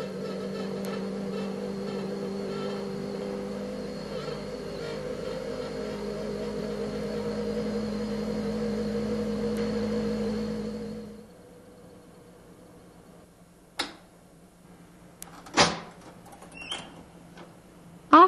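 A benchtop laboratory centrifuge spins sample tubes of wastewater at about 3200 rpm, giving a steady loud motor hum and whine that cuts off abruptly partway through, followed by a few sharp clicks and clunks in the quiet.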